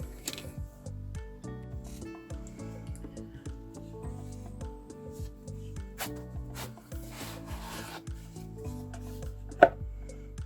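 Art materials swatched onto sketchbook paper, with close scratchy rubbing and tapping strokes repeating in an uneven rhythm over a soft musical background.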